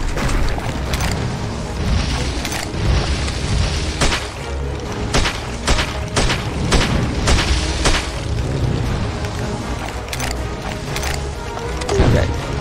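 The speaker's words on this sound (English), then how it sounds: "grenade launcher for this thing" Repeated heavy booms and mechanical clanks from a grenade launcher firing in the horror game Heaven Dust 2, loud and steady across the stretch with several blasts in quick succession.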